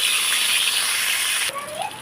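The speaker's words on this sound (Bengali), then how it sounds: "মাছগুলো ভেজে নেবো আগে ভালোভাবে" Loud, bright sizzling of bhola fish frying in hot mustard oil, which suddenly drops away after a second and a half, leaving a softer hiss.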